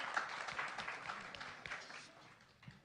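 Audience clapping at a TechHR 2018 conference talk on the future of work, a soft, fairly distant patter of hands that fades toward the end.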